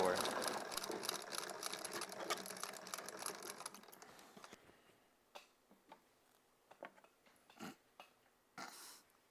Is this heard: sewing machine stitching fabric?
yes